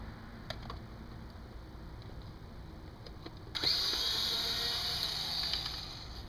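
A Makita screw gun backs screws out of a dining chair seat. After a few faint clicks and taps, a close, high-pitched motor whine kicks in and holds steadily for several seconds.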